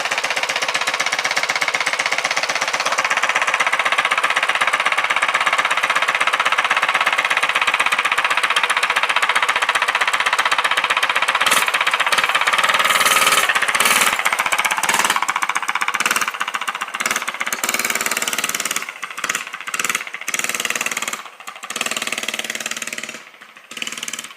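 Motorcycle fitted with a straight pipe exhaust, loud and close, running with a rough, raspy idle that builds into sustained revving, then breaks into sharp, choppy throttle blips near the end.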